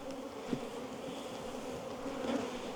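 Honeybees buzz steadily around an opened ten-frame hive in an apiary, a dense continuous drone of many insects close by with no talking.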